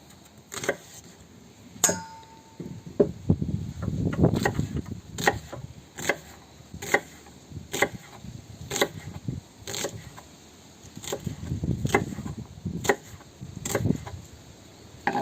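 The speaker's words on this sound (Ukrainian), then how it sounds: "Нарізаємо цибульку." Knife chopping onion on a wooden board, a steady series of sharp, close knocks with uneven spacing and soft scraping between strikes, heard alone.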